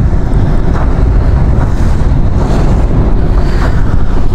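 Strong wind blows by the Chengi River on a rainy-day bike tour in Bandarban. It buffets the microphone in a loud, constant roar, with no other sounds standing out.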